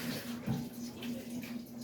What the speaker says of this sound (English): basically, that's hot water